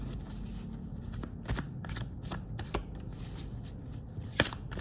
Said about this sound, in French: je vais quand même bien battre les cartes